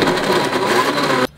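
A blender whirs loudly and close while crushing ice for a cold smoothie, a dense steady grinding roar that cuts off abruptly near the end.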